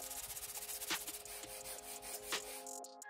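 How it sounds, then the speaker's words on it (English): Steady back-and-forth scratching of sandpaper on glued wooden boards, a rhythmic rubbing with a few louder strokes, close up and with no talking. "prepare the surface for the next glue up by sanding down to get a nice flat surface"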